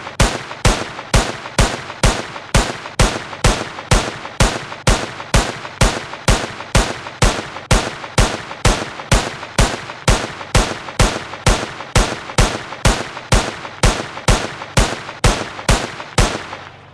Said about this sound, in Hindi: फिर हम इसको बंदूक से मारेंगे,